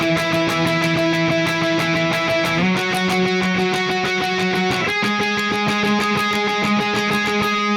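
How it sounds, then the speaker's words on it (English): Electric guitar strums rapid, even sixteenth-note octave swipes from a song, shifting to a new pitch every few seconds, loud and unaccompanied. "the lead guitar will be up here playing these octave swipes"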